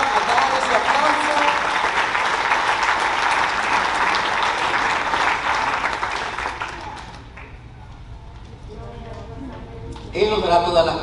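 A church congregation applauds loudly during a sermon, a dense steady wash of many hands lasting about seven seconds before thinning out, then a brief burst of clapping returns at the end.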